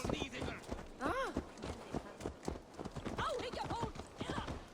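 Rhythmic hoof clip-clop of a horse moving along in Assassin's Creed Valhalla, with voices and a whinny-like call over the top, busy game-style background.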